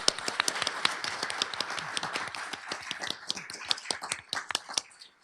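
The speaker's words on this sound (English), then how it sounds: "Round of applause for Dr." A small audience applauds, distinct individual hand claps in a quick, irregular patter, fairly close, thinning out toward the end.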